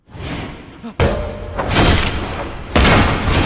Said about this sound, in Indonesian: anak buah pun menembak Wu tepat di dada sebelah kiri